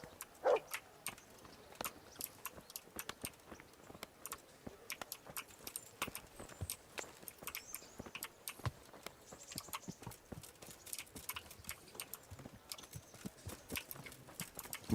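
Steady clip-clop of a trotting horse's hooves, a quick even rhythm of light knocks at moderate distance, fairly faint and continuous with occasional brighter hits.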